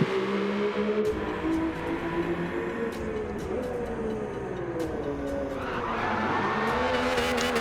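Race car in the Gran Turismo 7 video game drifting, its engine note rising and falling continuously while tires squeal through the slide, loud and steady with no talk.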